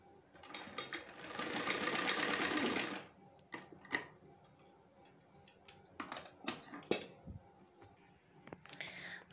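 A sewing machine stitches a lined salwar in a close, steady whirring burst lasting about three seconds, then falls quiet. Scattered clicks, taps and fabric handling sounds follow, with faint talk in the background.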